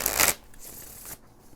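Tarot cards being shuffled for a reading, a short crisp riffle up front followed by softer sliding and rustling of the deck, close and without talk.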